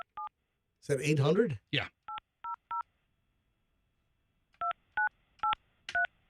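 Telephone keypad touch tones from a dialed number, short paired beeps in quick groups, several near the start and another run near the end, with a person speaking briefly between them.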